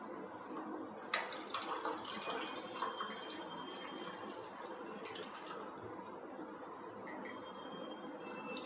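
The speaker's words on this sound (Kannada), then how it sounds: "ಸ್ವಲ್ಪ ಇನ್ನು ಸ್ವಲ್ಪ ನೀರು ಹಾಕೋತೀನಿ ನೋಡಿ" Water poured steadily into a ragi (finger millet) mixture while making ragi juice, a soft continuous splashing that stays fairly faint and unbroken, with no talk.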